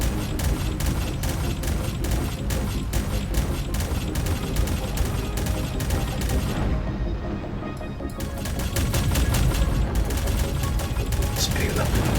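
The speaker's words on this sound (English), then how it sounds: "I will say these upgrade turrets are definitely tearing through these guys, though." Upgraded turrets in a video game fire in dense, rapid bursts of gunfire that tear through enemies, with a loud continuous barrage that briefly thins midway before resuming at full intensity.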